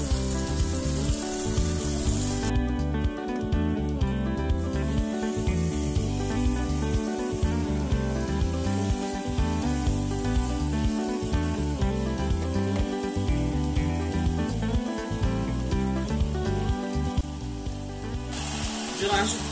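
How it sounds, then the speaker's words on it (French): Steady, dense sizzling of seasoned chicken frying in a hot saucepan, with a clattering, rhythmic texture throughout and no talking. "Dans ma casserole, je vais rajouter le poulet que j'ai déjà assaisonné à l'intérieur."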